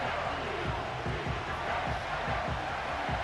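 Madden NFL 25 stadium crowd applauding the defense, a loud steady wash of clapping and cheering with low rhythmic thumps pulsing underneath.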